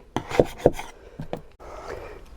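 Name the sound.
hand sanding a Corvette hood with 120 grit 3M sandpaper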